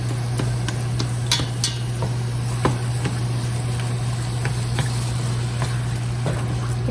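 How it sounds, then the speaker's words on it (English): Chopped onion and meat fry in a pan while being stirred, a constant low sizzle under scattered scraping and clinking taps from the utensil, close and moderately quiet, with no talking. "We're gonna mix and continue to cook these until my meat is no longer pink."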